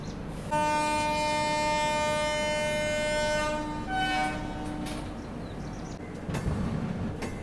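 A Tejas Express train horn blares loudly for several seconds as it departs Karmali railway station, then fades as the heavy rumble of rolling rail cars carries on.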